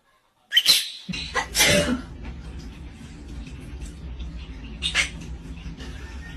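A pet talking parrot imitates a human sneeze with two sharp, breathy bursts close by, followed by a faint third burst over quiet background noise.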